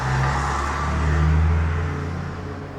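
Outside, a truck rolls past with a loud, continuous low rumble. The rumble swells through the middle and slowly eases off at the end.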